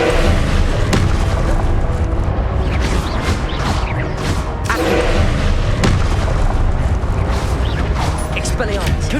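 Incendio fire spells blast repeatedly during Hogwarts Legacy combat, with loud booming bursts and crackling impacts piling up in a dense, chaotic battle soundscape while a voice shouts spell names over it.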